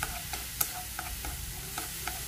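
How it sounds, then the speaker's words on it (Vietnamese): Minced pineapple is stir-fried in a pan for a vegetarian fermented sauce, a steady sizzle with regular scraping clicks as the food is turned, close and moderately loud. "các bạn xào khoảng chừng 5 phút"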